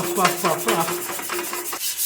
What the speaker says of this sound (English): It's like a cloth-backed sandpaper. So it is great for sanding